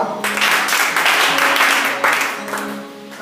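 A church congregation bursts into sustained applause and clapping, a dense, loud roar of many hands that holds steady for several seconds, with some voices mixed in.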